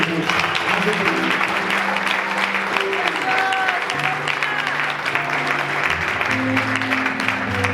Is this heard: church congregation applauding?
yes